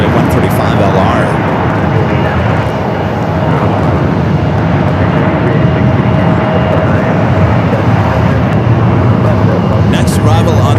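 A Contour Aviation ERJ 135 LR regional jet departing Phoenix Sky Harbor airport, heard as a loud, continuous broadband jet roar that stays nearly steady throughout, with an announcer's voice over it.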